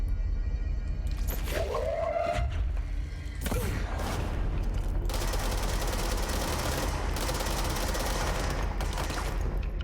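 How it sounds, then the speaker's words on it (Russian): A machine-gun-style weapon in the video game Control fires loud, dense bursts that run almost continuously, mixed with a swooping tonal effect and heavy game sound. "Типа пулемет."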